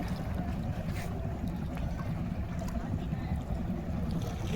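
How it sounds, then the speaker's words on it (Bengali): A fishing boat returns along the Meghna River, heard as a steady, low, rumbling drone mixed with wind and water noise that continues without a break. "ওই যে একটা নৌকা মাছ ধরার জন্য গেছে"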